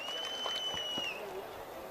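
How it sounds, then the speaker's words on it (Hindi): Steady applause from the audience at a mushaira poetry gathering, a dense continuous wash of clapping with a thin whistle-like tone rising above it. "एक बार जोरदार तालियां बजा करके उनका इस्तकबाल कर दिए"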